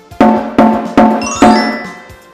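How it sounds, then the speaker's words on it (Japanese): A well-tensioned hira-do taiko with sound skin and body is struck four times in a steady rhythm, each loud, ringing hit decaying into the next, with no voices. "皮の傷みが少なく張りが適切な状態の太鼓はこんな音が"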